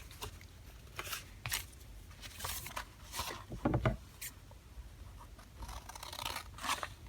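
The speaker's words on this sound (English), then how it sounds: "And then I'm going to trim the excess." Paper being trimmed from an accordion journal page, a run of crisp snipping and rustling cuts coming in uneven bursts at close range with brief pauses between strokes.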